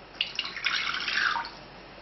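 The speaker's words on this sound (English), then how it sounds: "I'll add my water" Water poured into a pot for dark chocolate mud cake batter, a short splashing gush that starts with a few drips, swells briefly and tapers off, close and moderately loud.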